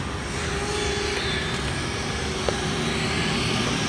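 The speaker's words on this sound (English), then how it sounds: "This is the drone." A cheap camera drone, a budget DJI Spark alternative, hovers and comes in to land, giving off a steady broadband whirring drone with no break and one brief tick partway through.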